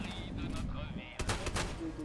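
A shotgun fires in the video game Fallout 76, a single sharp, loud blast with a ringing tail that cuts in after a second of low, busy game noise and voices.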